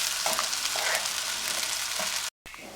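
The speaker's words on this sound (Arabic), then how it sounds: "علشان الرز يطلع معاكي مفلفل في الفراخ لازم نحمره شويه في السمنه والزيت" Rice fries in a pot of ghee and oil for stuffed chicken, a dense, steady sizzle close up with faint stirring scrapes, cutting out briefly near the end.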